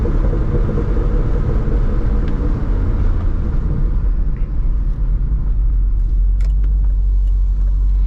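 Chevrolet C6 Corvette Grand Sport V8 engine idling and cruising at low RPM, a steady deep rumble heard from inside the car, loud and continuous with no talk over it.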